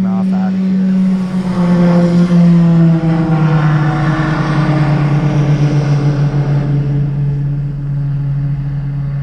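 Propeller airplane taking off from a small remote airport, its loud droning engine holding a steady tone that slowly shifts in pitch and fades away at the end.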